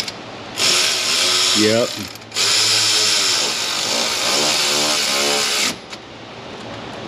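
Ratchet fitted with an 8mm extension wobble socket, working on the camshaft sprocket of a Ford 5.4 Triton engine: two long, loud, buzzing runs with a short break between them, and one brief spoken word.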